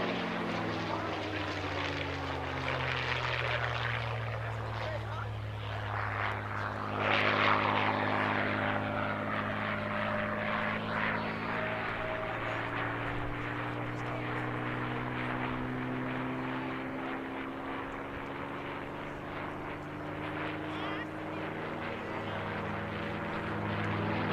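A World War II propeller fighter plane drones steadily overhead at an air show, its engine pitch sliding and shifting as it passes, loud and continuous with a gentle swell partway through.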